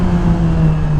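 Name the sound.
2007 Yamaha YZF R6 motorcycle exhaust, rev matching downshift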